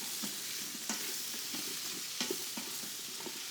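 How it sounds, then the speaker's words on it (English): Fresh thyme and other herbs toast in hot fat and oil in a pan, giving a continuous close sizzle with occasional soft stirring clicks, and no voices. "when we toast the thyme, the fresh herbs in the fat and the oil"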